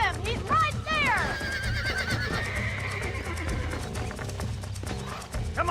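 A horse in the video game Red Dead Redemption whinnies loudly at the start, followed by hoof clip-clops and game sounds, with a voice speaking underneath.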